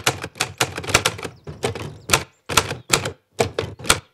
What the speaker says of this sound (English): I miss those old school typewriters, such a satisfying feeling hitting the keys